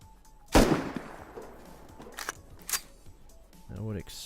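An LR300 rifle fitted with a muzzle brake fires in the game Rust: one sharp loud report with a decaying tail, followed by fainter clicks and thuds, with a voice talking briefly at the end.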